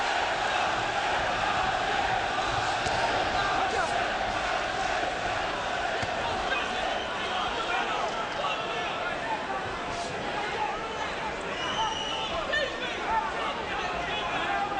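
Boxing crowd cheering at a heavyweight bout in Atlantic City, a dense continuous roar of voices and shouts filling the arena while a commentator talks over it.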